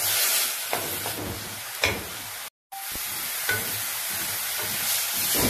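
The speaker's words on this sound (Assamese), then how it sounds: "ভাজিছোঁ" Fermented bamboo shoot with salt and turmeric powder fries in a pan for a fish curry, giving a continuous close sizzle with occasional stirring scrapes and one brief silent gap.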